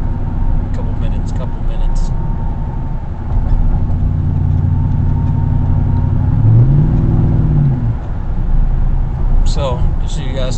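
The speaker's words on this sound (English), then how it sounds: "Magnaflow true dual exhaust. It is straight pipe all the way back." A Nissan Titan with a K&N air intake and Magnaflow straight-pipe true dual exhaust rumbles loud and close, its engine note rising and falling through a couple of revs over a steady idle, with brief talk at the start and end.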